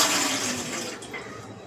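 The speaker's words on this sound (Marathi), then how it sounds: "इडलीचं भांडं आहे, त्यामध्ये ना पाणी ओतून घेते 1 तांब्या" About a jug of water poured into an idli steamer pot, a loud splashing gush at first that eases into a softer running trickle.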